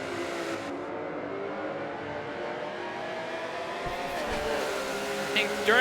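Race cars battle door to door at Silverstone at night, engines droning and revving steadily close by beneath continuous commentary, with a brief tire squeal near the end.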